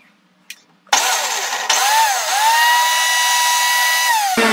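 A kitchen mixer grinder runs on green chilli, curry leaves, ginger and cumin, kicking in abruptly after a brief click with a loud, steady high whine whose pitch sags and recovers as the jar loads, then cuts off sharply.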